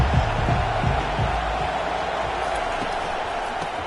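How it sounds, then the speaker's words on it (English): A stadium crowd roars continuously at an Ohio State versus Michigan football game, a dense, loud wash of cheering and noise throughout. "This crowd bringing the energy and noise early."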